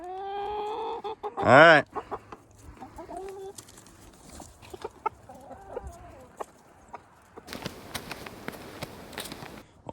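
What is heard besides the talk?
chickens clucking over oat treat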